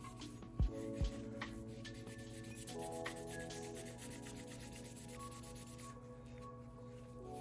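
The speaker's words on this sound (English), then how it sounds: "The barrel, let's clean the outside." A cloth rubs along the outside of a Glock 19 Gen 5 pistol barrel during cleaning, a quiet close scrubbing with a couple of sharp knocks early on, then steady faint rubbing.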